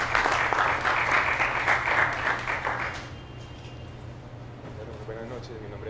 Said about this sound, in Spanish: Muchas gracias a ustedes, un aplauso.